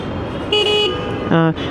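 Stock horn of a Yamaha FZS V2 motorcycle gives two short, clear toots, the second one slightly lower and stronger, heard close against a faint background hiss.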